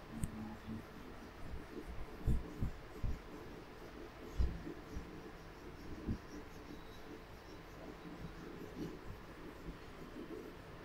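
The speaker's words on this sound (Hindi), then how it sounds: "तो मैं इसको रब कर रहा हूं" Marker or chalk board being rubbed clean in a lecture room, a soft dry scuffing with scattered low thumps and bumps against a quiet room background, no talking.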